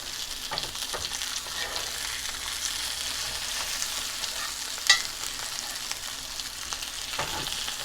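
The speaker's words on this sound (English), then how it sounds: "after we flip it, we're going to butter baste it" A steak sizzles steadily in a hot pan as butter is basted over it, a dense continuous frying hiss with a soft spoon clink near the middle.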